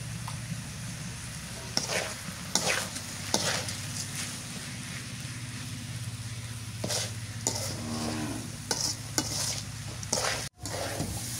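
Rice is fried with ginger, garlic and cumin paste for beef pulao, a steady close sizzle running throughout while a spoon stirs and scrapes the pan at irregular intervals.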